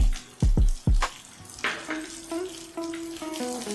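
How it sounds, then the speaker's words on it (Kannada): Beans and peas dropped into hot oil for rava upma, a few thuds followed by a steady close sizzle and crackle that continues to the end. "ಇದನ್ನ ಚೆನ್ನಾಗಿ ಫ್ರೈ ಮಾಡ್ಕೊಳ್ಳೋಣ ಇದು ಎಣ್ಣೆಯಲ್ಲೇನೆ ಫ್ರೈ ಆಗಬೇಕು"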